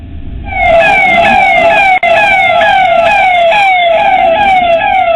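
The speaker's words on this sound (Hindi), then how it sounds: "सायरन की आवाज" A loud wailing siren on a red-beacon official car sweeps up and down in repeated rapid cycles, close and continuous, with a brief dropout partway through and traffic rumble beneath.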